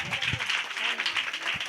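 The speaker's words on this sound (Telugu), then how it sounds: "ఒకసారి అందరి కోసం మరొకసారి గట్టిగా క్లాప్స్ కొట్టండి" An audience at a Christmas celebration in a church gives the children's performance a burst of brisk, continuous applause. It sounds moderately close, with a couple of low thumps mixed in.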